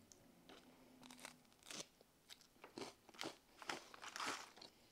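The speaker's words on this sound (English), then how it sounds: "Let's try the cracker by itself." A plain MRE cracker being bitten and chewed, giving a series of dry, close crunches and crackles in irregular bursts over several seconds, with no talking.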